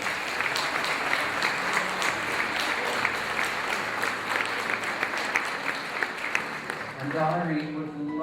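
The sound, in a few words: audience applause on cruise ship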